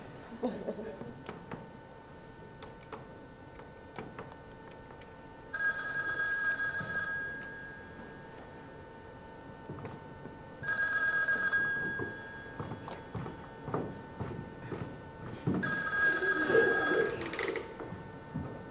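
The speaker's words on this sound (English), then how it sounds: "The phone was picked up at the other end on the third ring." A telephone rings in three separate bursts with pauses between them, each bell ring steady and fairly clear over a low background.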